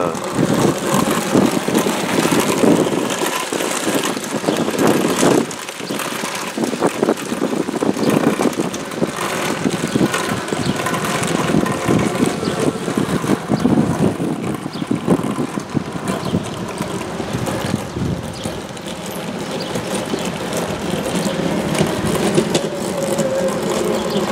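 A Hetzer tank destroyer's engine runs near half throttle, a loud, rough, continuous rumble that surges and eases over about 25 seconds with wind buffeting the microphone.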